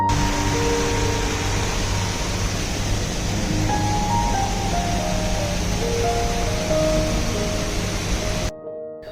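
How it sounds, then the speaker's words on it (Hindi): A small waterfall pours beneath a wooden bridge near Nuranang Falls in Tawang, a steady, broad rush of flowing water heard close and continuous, with no one talking, before cutting off abruptly at the end. "इस ब्रिज के नीचे से भी एक छोटा सा झरना ही बह रहा है"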